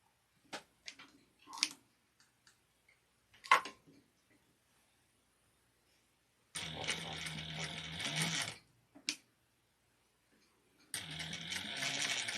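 A home sewing machine stitches piping onto fabric for a vintage-style handbag, running in two sustained bursts of mechanical whirring after a few scattered clicks and handling taps, close by with no talk.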